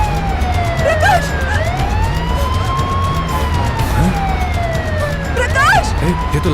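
An ambulance siren wails loudly and close, its pitch sweeping up and down in long rising and falling tones, over traffic rumble with voices shouting underneath.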